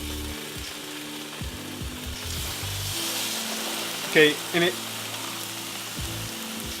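Steady crackling sizzle of chicken frying in a pan for enchiladas, with a brief spoken word and a couple of short clinks partway through.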